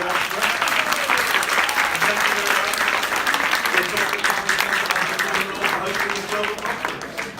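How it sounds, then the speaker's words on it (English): Sustained applause from a conference audience at Fordham University for a panel, steady and full throughout, with a voice briefly audible beneath the clapping. "Let's just give one more round of applause to our panel."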